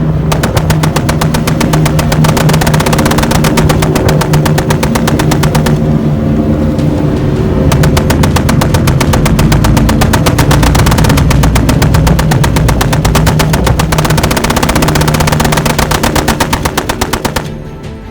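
Loud, sustained .50 caliber machine gun fire during suppressive passes, rapid continuous bursts packed densely for nearly the whole stretch with only brief gaps, harsh and close, no voices.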